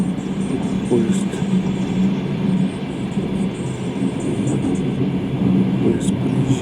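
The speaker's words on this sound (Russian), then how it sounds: "Поезд проезжаем. Встречный товарный." A passenger train runs past an oncoming freight train, giving a steady, loud rolling rumble with wheel clatter and rushing noise that stays constant throughout.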